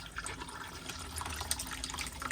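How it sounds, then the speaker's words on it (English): Water flows steadily into the bowl of a caravan toilet in an Adria Twin 640 SLB as it flushes. The rush is close and continuous, with no voices. "You get a flow of water into the bowl."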